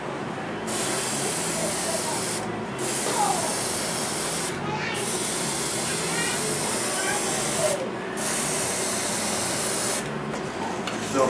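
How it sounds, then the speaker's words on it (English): Repeated bursts of hissing spray as a green Duracoat coat is applied to a firearm, several long passes broken by brief pauses, loud and close throughout. "and then spray our green over"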